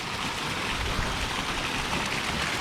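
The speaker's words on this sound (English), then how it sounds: "Just a nice summer rain." Steady summer rain falls outdoors near a garden, a dense, even hiss of drops on surfaces, close and continuous, with no voices.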